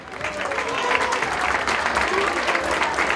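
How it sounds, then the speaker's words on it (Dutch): A carnival crowd applauds the youth committee at a youth prince unveiling, a dense, steady clapping that fills the whole stretch, with voices mixed in. "Een groot applaus voor de commissie jeugd."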